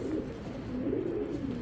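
A female Belgian racer pigeon and others nearby give soft, continuous low cooing, a rolling murmur that stays faint and even throughout.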